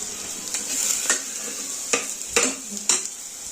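Masala for sambar being stirred in a sizzling cooking pan, a frying hiss under several sharp scraping strokes of a utensil against the pan, close and rhythmic.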